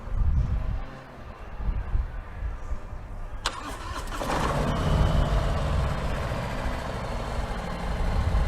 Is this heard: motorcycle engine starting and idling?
yes